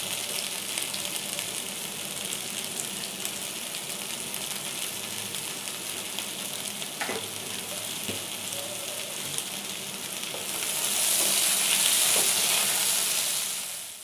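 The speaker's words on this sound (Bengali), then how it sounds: "সবজিগুলো অনেকটা ভাজা হয়ে গেছে" Mixed vegetables for Bengali shukto frying in a kadai with turmeric and sugar, a steady close sizzle throughout that swells louder and brighter near the end, with occasional stirring clinks.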